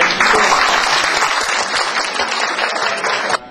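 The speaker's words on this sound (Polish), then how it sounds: "Brawa dla pana dyrektora." Students applaud their school director at a school visit event, a dense, steady wash of clapping from a close indoor crowd that continues evenly for a few seconds before cutting off abruptly.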